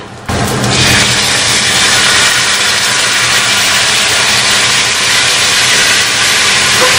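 Onions sizzle and hiss loudly in a hot pan while cooking upo with sardines, a steady broadband frying crackle that starts abruptly and continues unbroken at close range.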